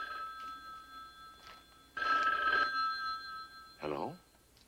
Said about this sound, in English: I received a phone call.